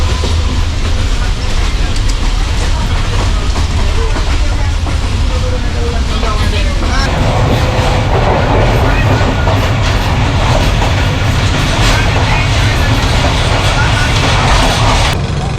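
The Marvi Passenger train runs through the Thar Desert, heard from on board with a loud steady rumble and rhythmic clickety-clack of wheels on rails that grows heavier partway through, with faint voices in the background.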